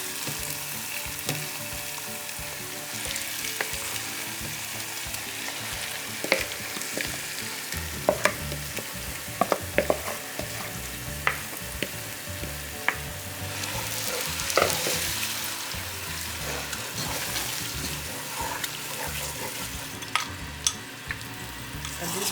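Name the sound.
food frying in a pan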